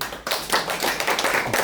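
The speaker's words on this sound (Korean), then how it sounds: "이런 박수 한번 쳐주세요" Applause from a neighborhood residents' gathering on a mural-village study tour, a short burst of dense clapping from a small crowd, steady and fairly close, with no voices over it.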